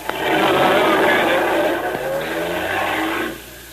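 A car engine revs and pulls away as a sound effect in an old radio drama, a loud sustained motor roar that fades slightly near the end, heard under a voice.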